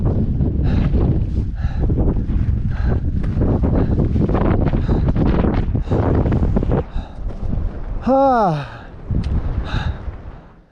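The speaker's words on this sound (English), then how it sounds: "It's very windy" Strong gusty wind on Broken Hand Pass, a mountain pass in Colorado's Crestones, buffets the microphone with heavy rumbling roar, with someone speaking and breathing amid it.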